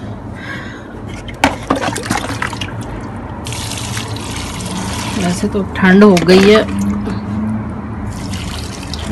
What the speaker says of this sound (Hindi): बालकनी में आई हूँ इनको पानी देने के लिए।